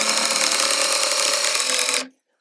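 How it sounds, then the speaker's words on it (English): Hammer drill running steadily outdoors while building a chestnut air-pruning seed-starting table, a loud continuous whine lasting about two seconds before cutting off abruptly. "Love using the hammer drill for these things."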